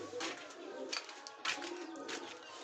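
Pigeons coo softly in a loose group, several low rounded calls overlapping at a moderate distance with faint background rustle and no talk.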